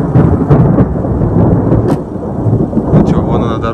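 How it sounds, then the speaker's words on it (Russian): Deep rolling thunder rumbles continuously with rain hissing in the background in the Caucasus mountains; loud and close, with a few sharper cracks. "О, слышите грозу?"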